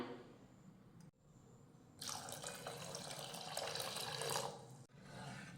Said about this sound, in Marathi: डाळ मिक्स करून घेतली की आता यामध्ये घालूयात पाणी